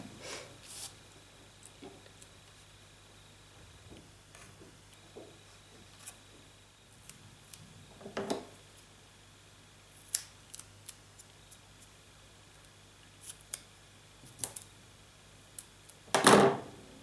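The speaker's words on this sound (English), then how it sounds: "I'm going to cut out one of these little squares" Scissors cutting a small square from patterned paper for a handmade birthday card, sparse crisp snips at irregular intervals, close by and quiet, with a louder rustle of paper near the end.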